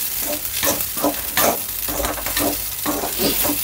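Paneer fried rice being stir-fried in a pan, loud continuous sizzling broken by repeated rhythmic scrapes and tosses of a spatula, close up.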